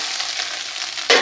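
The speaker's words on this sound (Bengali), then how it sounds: "তো চাউমিনটা ঢেলে দিয়ে এবার আমি কিন্তু এটাকে একটু নাড়াচাড়া করে নেবো" Chowmein sizzles in a hot pan with fried long beans, onion and egg, a steady frying hiss that jumps louder near the end as the noodles are stirred and tossed, with no talking.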